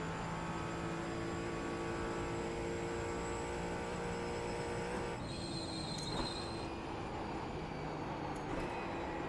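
A GT4 race car in a racing video game runs flat out down the long back straight at Mosport, its engine holding a steady, high drone with faint tonal shifts as speed builds.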